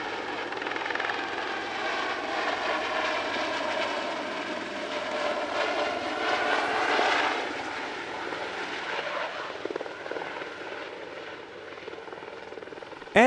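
A helicopter built as the successor to the Gazelle performs at the Air Legend 2023 airshow, its steady whining engine and rotor roar holding loud and continuous with a slight swell midway.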